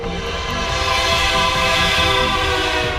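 A train passes close by with a loud, sustained blaring horn that holds its tone over the low rumble of the rail cars, recorded on a GoPro camera.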